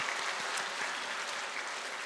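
Church congregation clapping during a Korean Sunday service, an even, sustained patter of many hands at moderate level, slightly distant in the sanctuary, with no voice over it.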